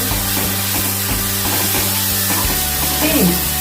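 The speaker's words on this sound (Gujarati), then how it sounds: "ત્યારબાદ આદુ એડ કરી દઈશું. આ બધું સારી રીતે મિક્સ કરી લઈશું." Ginger being stirred into ragi khichdi in a pan, a steady sizzle with soft scraping strokes of the spoon, close and continuous, with a faint low hum beneath.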